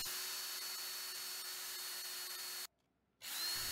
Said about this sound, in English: Drill holes for the screws that are going to hold it to the back of the work.